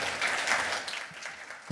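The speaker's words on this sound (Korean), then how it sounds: "다시 한번 큰 박수 부탁드립니다" A lecture audience claps together in a short, even burst of applause that tapers off toward the end.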